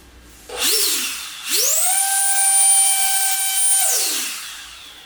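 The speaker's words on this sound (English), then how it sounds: "I'm going to test it with the handheld blower from earlier." A handheld blower powered by a DIY 20V 20Ah high-discharge battery spins up twice, first in a short burst and then in a long, loud, steady whirring whine, before winding down.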